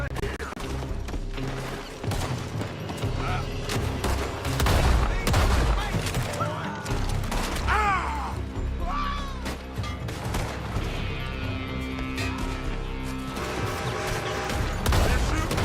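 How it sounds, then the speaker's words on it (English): Gunfire rings out from a building in Red Dead Redemption 2, rapid irregular shots and bursts crackling loudly over a busy game soundscape, with some voices mixed in. "They're shooting from that building!"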